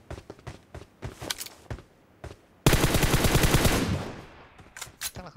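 Rapid gunfire in PUBG Mobile at a military base, from an S12K fitted with a suppressor: scattered single sharp cracks, then a loud, dense burst of repeated shots lasting over a second, followed by more isolated pops.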